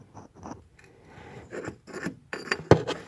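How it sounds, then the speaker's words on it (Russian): A strut nut on an Opel Meriva is loosened with an 8 mm wrench, giving short, close scraping and rasping metal bursts that grow louder and sharper toward the end, with no talk. "Ключиков на 8 держим за шток. Откручиваем вот таким образом."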